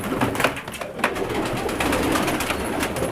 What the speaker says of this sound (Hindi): इलाहाबादी कबूतर माशाल्लाह बहुत फेमस हैं और उड़ान के अंदर बड़े ही ज़बरदस्त हैं